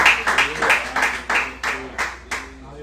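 A church congregation claps in worship, loud rhythmic bursts of applause pulsing in unison beat after beat, close and full, fading slightly toward the end.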